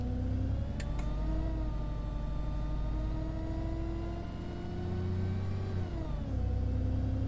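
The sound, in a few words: Enviro 400 bus engine pulling away, video game OMSI 2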